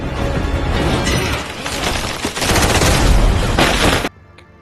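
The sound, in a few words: gunfire in an action movie fight scene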